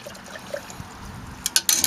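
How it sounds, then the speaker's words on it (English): Water is poured into a container during a sterling silver refining process, giving a short liquid splash and trickle that builds to a few brighter bursts near the end, close and fairly quiet. "we still have to add our water"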